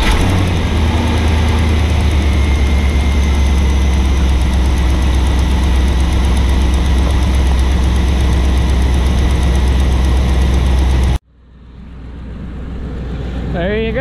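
A truck engine idles steadily and loudly after a throttle body replacement, a constant low rumble that cuts off abruptly near the end before quieter sound resumes.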